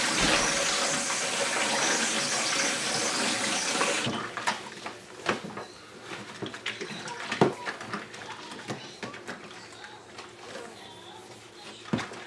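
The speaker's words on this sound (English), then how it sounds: "So I'm going to use dishwashing liquid to wash it up." A fridge part being washed with water and dishwashing liquid, a loud rush of running tap water at first, then quieter splashing, scrubbing and clatter with intermittent knocks, with talking partly audible beneath.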